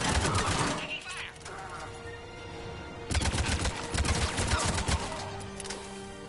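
Gunfire in a Mass Effect 3 video game battle, loud clusters of rapid shots that break off briefly and then resume, mixed with battle noise and a faint voice.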